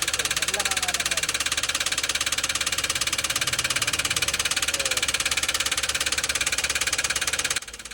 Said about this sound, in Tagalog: Sobrang ingay na ng kanyang makina mga boss